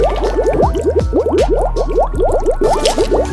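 Facial wash rubbed into foam on a paper DIY toy, giving close, wet squishy squelches in quick repeated strokes, loud and rhythmic, with no speech.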